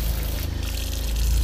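Water sprays steadily from the spray setting of a double kitchen sink faucet in a 2018 Mercedes Thor Freedom RV, a continuous close hiss of water with no talking.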